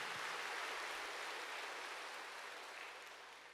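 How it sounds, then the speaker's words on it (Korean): A church congregation at Sunday worship claps for God after a prayer, a dense, even wash of many hands that sounds soft and somewhat distant, slowly fading toward the end. "하나님께 큰 박수로 영광 돌리겠습니다."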